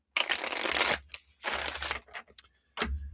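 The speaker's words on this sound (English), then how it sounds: "I'm going to shuffle cards for all of my 19 or so, around 20 free readings." Wildwood and Enchanted tarot decks being shuffled, two long riffling bursts followed by short card slaps and taps, close and fairly quiet with no talking.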